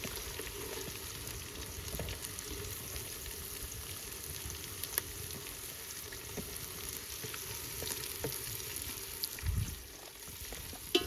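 Onion and curry leaves fry in a pan over an outdoor cooking fire in a forest, a faint, steady crackling sizzle with small pops and occasional stirring clatters, no one speaking.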